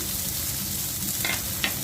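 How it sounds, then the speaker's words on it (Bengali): Shrimp sizzle steadily as they fry in a pan, with a broad hiss and a couple of brief scraping stir sounds near the end. "চিংড়ি মাছটা ভেজে নেব।"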